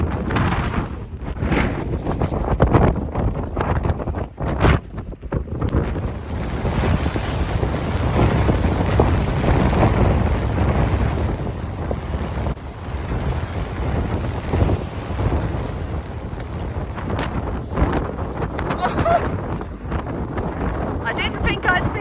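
Strong wind buffets the microphone on a wet walk up the South Downs. The loud, rough gusts roar continuously, with brief dips, and no clear voice rises above them.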